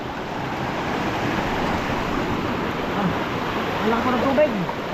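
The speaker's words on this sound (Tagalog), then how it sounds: "Ang laki po ng tubig." A large body of rushing water roars as a steady, dense wash of noise outdoors, with faint voices briefly audible underneath near the end.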